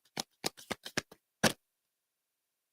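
A deck of cards gets shuffled in quick, crisp riffles, about seven sharp rattling bursts close by and then silence, with no talking.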